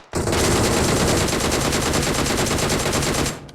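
Sustained automatic gunfire in PUBG Mobile, a rapid unbroken burst of shots lasting about three seconds, loud and close with no talking.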